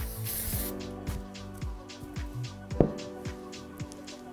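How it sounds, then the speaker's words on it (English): A series of short hairspray bursts from a can onto hair, repeated in a loose rhythm at close range, with faint clicks and background music underneath. "and just spray"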